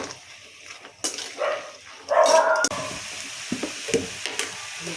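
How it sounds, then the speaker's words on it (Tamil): Onions and tomatoes sauté in a pan, giving a close sizzle with scraping stir strokes and a louder burst of frying partway through. No one speaks. "வெங்காயம் நல்லா ப்ரௌன் கலரில் வர வரைக்கும் நல்லா வதக்கி வச்சுக்கணும்"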